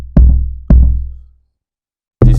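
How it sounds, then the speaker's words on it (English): Three deep, booming log drum hits from the Log Drum VST in an amapiano-style music production, with two long decaying notes followed after a gap by a third, loud and alone. "I added the log drum from Log Drum VST."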